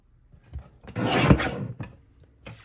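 A paper trimmer slices a strip of purple cardstock in one short rasping cut, close and alone, with soft handling taps before and after.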